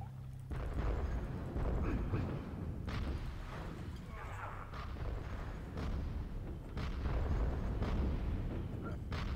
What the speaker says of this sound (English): we're about to commence firing with our sentry traps